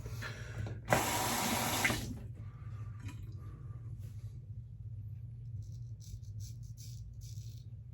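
Water from a tap runs in a short, loud burst of about a second while a straight razor is rinsed, then cuts off, leaving a low steady hum and faint clicks.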